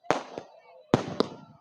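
Fireworks bursting at a village Dussehra Ramlila during Ravan Dahan, with two loud sharp bangs about a second apart, each followed by crackling and a fading tail.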